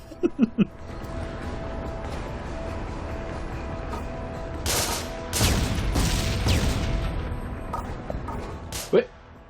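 C4 charges detonate in the video game Devil's Third: a few sharp cracks at the start, then a loud, rolling blast burst, and a final sharp bang near the end, with people talking throughout.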